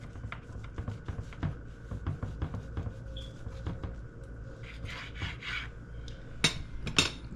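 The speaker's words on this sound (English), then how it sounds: "So I'm gonna go ahead and cut" A knife saws through a slice of Barbados cassava pone, a series of soft rasping, scraping strokes with light taps against the board, close and quiet.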